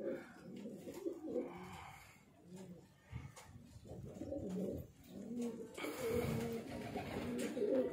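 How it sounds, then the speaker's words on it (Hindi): Breeder pigeons coo inside a loft, several low rolling calls overlapping and rising and falling in waves, fairly quiet and close. "ये मेरा पसंदीदा कबूतर है"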